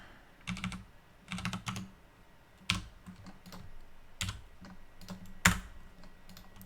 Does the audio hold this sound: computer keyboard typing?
yes